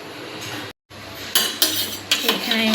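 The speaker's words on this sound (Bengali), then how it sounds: "ভাতটা একটু নেড়ে দেখি কতটা কি হলো" Rice cooking in a pot is stirred with a metal spoon, producing scraping clinks against the pot in several short bursts over a steady low background, after a brief gap of silence.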